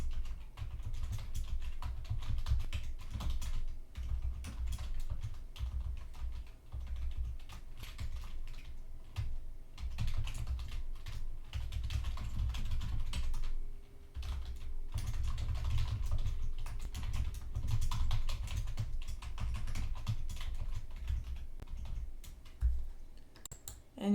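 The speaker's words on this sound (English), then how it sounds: "I can do add a new customer and just type in a customer name here" Steady typing on a computer keyboard while entering a customer name into a contractor ordering application, with dense, rapid key clicks continuing for the whole stretch, close and clear, and no talking.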